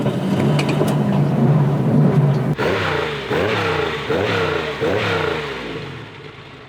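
A Paul Stephens Autoart Porsche 993R engine revs and accelerates close up, a steady drone that surges through repeated rising gear pulls after a sharp shift partway through.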